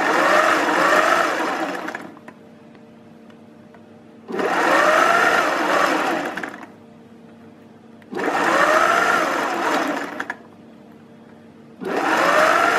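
A sewing machine stitches the side gusset of a zero-waste Ursa dress in three and a half loud, close whirring bursts of about two seconds each, separated by quiet pauses while the hands are repositioned.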